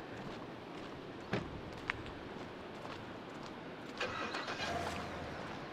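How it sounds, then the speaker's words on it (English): Car engine starting and pulling away outdoors, a low rumble under background noise with a couple of brief knocks and a rise in engine sound near the end, heard from a moderate distance. "He's driving away."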